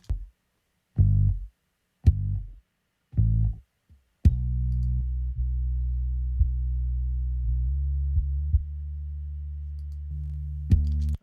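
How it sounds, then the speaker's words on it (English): Several short, punchy low kick thumps, then a continuous low bass drone, heavily multiband-compressed, with faint kick pulses inside it, steady and loud. "really compress the low end of the kick or the bass and then bring it up"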